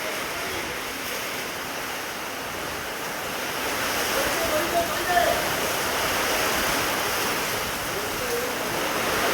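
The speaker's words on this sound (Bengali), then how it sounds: "ঝড়ের আওয়াজ আর টিনের চাল।" A storm with rain and wind on a tin roof makes a steady, loud broadband roar that swells slightly midway and continues without a break.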